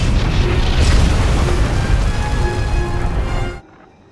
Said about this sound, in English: The supply cache has been destroyed.